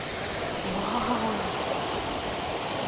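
Clear water flows steadily at a mountain lake in Sikkim, a continuous broadband rush like a stream or small waterfall, close and even throughout with no other sounds standing out.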